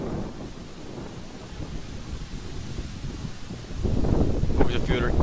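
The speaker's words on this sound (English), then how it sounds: "the wind's starting to pick up here. I'm sure you can hear it through both the mic of the camera, through my mic." Wind gusting against the camera and lapel microphones at an outdoor amateur cricket match on a cold day, a steady rumbling buffet that grows louder and rougher toward the end.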